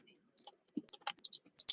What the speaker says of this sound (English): Oh, I like hearing myself typing.